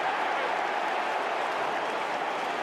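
A large crowd roars and applauds at an Australian football match between Adelaide Crows and West Coast, a dense, sustained wash of cheering with no breaks.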